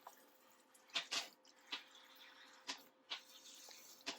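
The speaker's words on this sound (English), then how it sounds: "we're just going to give this a generous watering" Plain water is poured generously over an anthurium leaf cutting, giving scattered soft drips and small splashes at irregular intervals, faint and near, with no voices.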